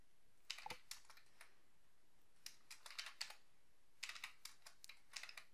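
Computer keyboard keys tapped in short clustered bursts with pauses between, crisp light clicks close by and quiet, no voices.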